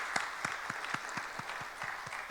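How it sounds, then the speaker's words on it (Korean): A church congregation at a Sunday service applauding after a hymn, a fairly faint wash of many hands clapping with a regular rhythmic pulse of beats running through it. "박수하겠습니다"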